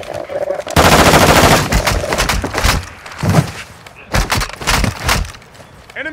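Heavy automatic gunfire in Call of Duty DMZ, loud sustained bursts of machine-gun fire with scattered single shots and thuds, rising and falling over several seconds.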